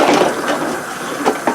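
Kitchen items such as a bowl, straw and knife rinsed under a running tap, a steady close rush of water with a couple of brief splashes near the end.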